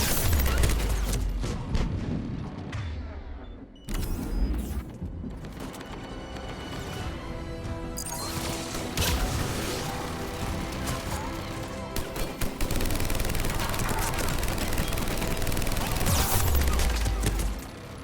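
Dense, loud rapid gunfire from turrets in a Mass Effect battle, sustained bursts with heavy booms and impacts throughout.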